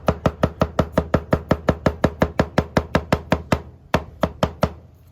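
A knife dices food into small pieces with close, crisp chopping strokes. About twenty come in a fast, even rhythm, then a few slower, spaced chops follow, with no voice over them.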